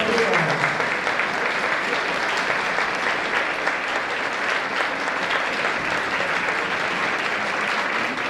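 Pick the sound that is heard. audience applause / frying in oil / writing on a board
audience applause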